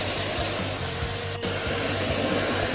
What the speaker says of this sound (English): So if we start the pressure washer, quite obvious what areas have been cleaned.